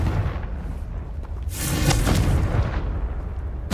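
A Confringo blasting spell cast in the Hogwarts Legacy video game bursts midway as a single loud, broadband explosion that rises out of a low background rumble and then fades.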